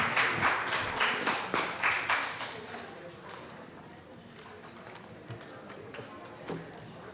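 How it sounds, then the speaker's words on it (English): Scattered clapping from a small audience welcoming panellists on stage at a Constitution Day celebration, a few sharp claps at first that quickly thin out and fade to quiet room noise. "A huge round of applause,"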